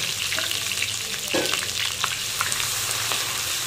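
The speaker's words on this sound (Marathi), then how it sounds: "तेलामध्ये मी लसूण आणि अद्रक टाकते बघा।" Garlic and ginger fry in hot oil, giving a dense, continuous close sizzle with a few scraping stirs and no talk.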